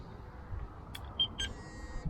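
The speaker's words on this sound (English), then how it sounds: "The other rod's beeping, so probably just liners." A carp fishing rod's electronic bite alarm gives a few short, thin beeps at the waterside, scattered and fairly faint over low outdoor background noise.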